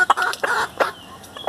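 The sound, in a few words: Hamburg chickens clucking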